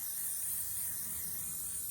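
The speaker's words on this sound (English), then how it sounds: "I've got my hairspray. It's just literally my hairspray, and I'm going to spray that." Hairspray hisses from an aerosol can in one steady, close burst as it seals a painted art journal page, with no talking.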